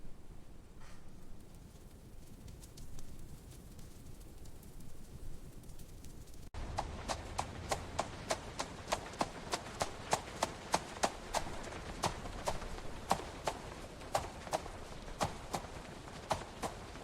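Horse hooves clip-clopping steadily on a street in a period town scene, a regular run of sharp close hoofbeats starting abruptly over faint background noise and continuing to the end.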